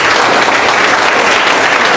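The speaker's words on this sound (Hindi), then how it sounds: "एक बार जोरदार ताली बजा दो।" Large audience applauding loudly at a Vestige business gathering, a dense, continuous roar of clapping from many hands, close and steady throughout.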